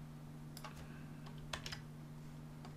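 Light, sparse keystrokes on a computer keyboard, a few soft clicks scattered over a faint steady hum with no talking.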